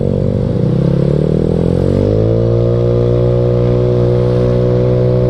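A Yamaha Mio scooter accelerates on the road, its engine droning loud and close, with the pitch rising as the throttle opens and then holding a steady whine, no voices.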